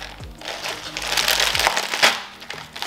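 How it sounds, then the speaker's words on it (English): Knife chopping salad vegetables into small pieces on a cutting board, giving close, crunchy, crackling cuts in quick irregular succession with no talking. "I'm gonna chop it so that it's like little pieces"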